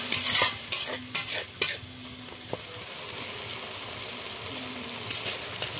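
Vegetables stir-fried with a splash of water for a Mayapur-style maida sabzi, sharp clanks and scrapes of a spatula against the pan over a continuous sizzle, busy at first then settling into a steady hiss.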